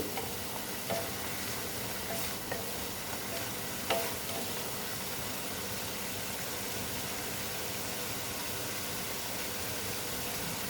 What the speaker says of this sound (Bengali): কাশ্মীরি লাল লঙ্কার গুঁড়ো দিয়ে দিলাম দিয়ে কষিয়ে নিচ্ছি